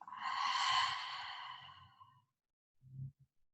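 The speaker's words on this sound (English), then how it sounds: "Take another deep, full breath in. And a full breath out." Deep, full exhale during a yoga core-strengthening session, a soft, breathy sigh lasting about two seconds and fading out, followed by a faint low murmur of sound.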